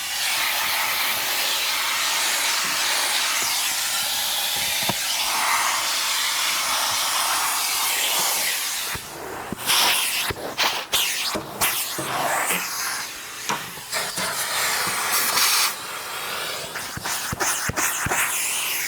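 A loud shop vacuum runs continuously during car interior detailing, a steady roaring hiss that shifts after about nine seconds into choppier surges and bumps as the nozzle moves around the carpet.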